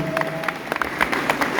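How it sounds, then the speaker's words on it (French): Scattered audience clapping at a Disney-themed fan concert, a loose patter of hands at moderate distance, fairly light and uneven. "On peut les applaudir"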